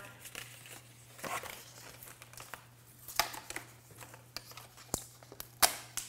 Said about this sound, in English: So we can do fun lines by folding it over.